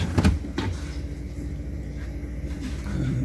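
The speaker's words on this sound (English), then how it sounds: "So we will need to remove all these shelves and drawers." Plastic shelves and drawers are pulled out of a GE Profile refrigerator with a leaking water tank, giving a couple of short clunks and scrapes up close, followed by quieter handling noise.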